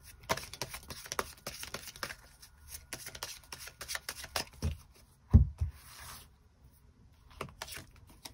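Tarot cards being shuffled before a draw, with soft, close, irregular riffling and slapping of the deck, quiet throughout with a few louder taps.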